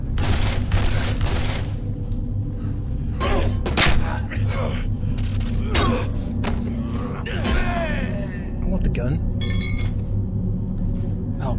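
Gunfire in the horror video game Condemned: Criminal Origins, several loud sharp shots and thuds over a low rumbling ambience, with heavier hits clustered in the first few seconds.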